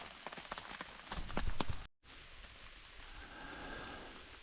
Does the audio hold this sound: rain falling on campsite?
yes